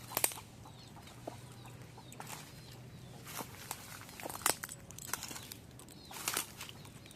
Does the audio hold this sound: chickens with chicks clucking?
yes